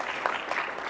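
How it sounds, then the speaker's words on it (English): Applause rises from the audience at a tech presentation on app promotion for Universal Windows apps, a moderately faint, continuous patter of many hands. "Yes, a round of applause for App Promotion."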